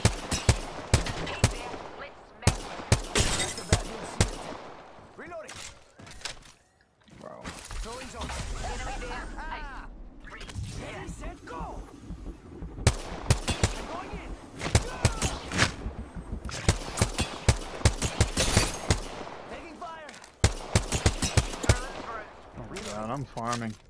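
Gunfire from a gun in the Apex Legends battle royale game: loud, close bursts of rapid automatic shots in repeated volleys, split by short pauses. Voices talk between and over the shooting.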